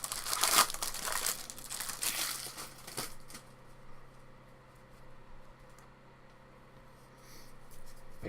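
A 2018 Bowman Draft baseball card pack wrapper crinkles and tears open loudly in a busy burst over the first three seconds, followed by quieter faint rustling and handling of the cards.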